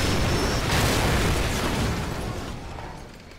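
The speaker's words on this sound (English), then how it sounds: "grab another Stinger and fire again" A Stinger missile explosion in the Call of Duty Modern Warfare video game gives a loud, broad boom with a rumbling blast tail that fades slowly over a few seconds, with no talk.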